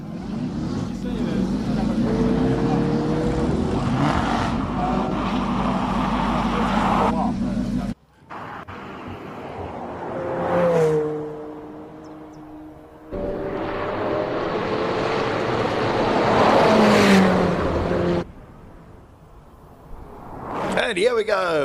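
Race cars roar at the Simola Hillclimb, engines rising and falling as they pass, with gear shifts and long loud passes broken by short lulls, and commentary voices over much of it.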